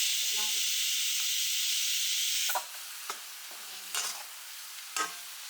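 Mutton and coconut frying in a pan give a loud, steady sizzle with hissing steam at first, then the heat drops and a spoon scrapes and stirs the pieces in several separate, close-up strokes.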